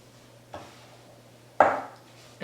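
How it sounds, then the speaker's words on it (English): A spatula stirs sugar into fresh strawberries in a bowl, giving two soft, close scraping strokes, the second louder, over quiet room tone. "mix my sugar in with my strawberries. And first I'm going to mix them with my spatula"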